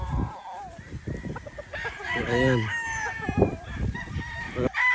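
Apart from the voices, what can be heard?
chickens and rooster crowing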